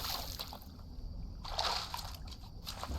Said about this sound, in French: on va se laver.